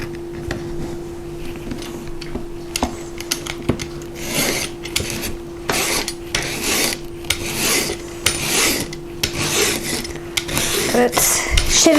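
A julienne peeler slices a carrot into thin strips, giving rhythmic scraping rasps in repeated strokes, fairly close and clear with no talk.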